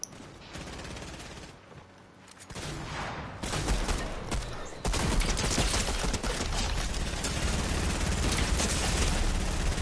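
Loud, sustained automatic gunfire in a video game, starting in scattered bursts and then swelling into a near-constant heavy barrage that fills the second half.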